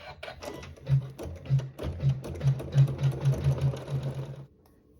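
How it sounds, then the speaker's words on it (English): An embroidery sewing machine runs a decorative satin stitch along the edge of fabric, its needle thumping in quick, rhythmic pulses close up before stopping abruptly. "we'll sew some decorative stitching along the edge of fabric 6"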